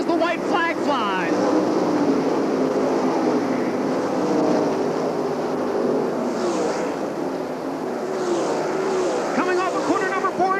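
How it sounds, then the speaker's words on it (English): World of Outlaws sprint cars racing at Eldora Speedway in 1997, a loud continuous engine roar throughout with a race commentator talking over it. "Jacobs again looks to the bottom of the track in 3 and 4, slides up in front of Steve Kinser as the white flag flies"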